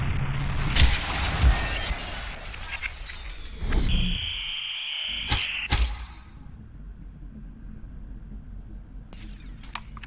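Glass shatters in the video game Superhot, a sharp crash near the start followed by a few quieter breaking and thudding hits and a brief synthetic tone, then a quiet stretch with small clicks.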